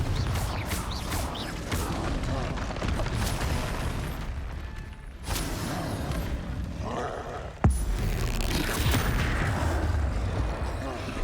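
Confringo spell explosions and magical blasts in the Hogwarts Legacy video game, a dense stream of booms, whooshes and crashes with a sharp impact near the end.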